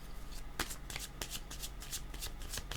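Cards being shuffled and drawn for a tarot-style word-card reading, with a series of sharp riffling bursts and soft slides in close, steady succession, no talking over it.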